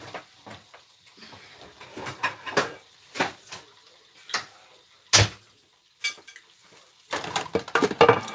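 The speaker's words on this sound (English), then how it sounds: "So let me get a glass plate for that." Glass plate, an old microwave turntable plate, lifted out and set down in a kitchen, giving scattered clinks and knocks of glass and dishware with a few sharper taps, close and fairly quiet with no talking.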